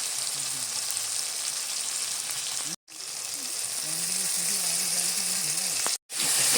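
Cumin paste sizzling and frying in cooked-down masala for a Bengali fish curry, a steady bright hiss broken by two short pauses, with a voice faintly under the sizzle.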